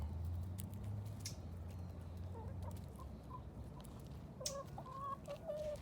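Chickens cluck in short, scattered calls, soft and close, with a low steady background rumble and a few sharper clucks near the end.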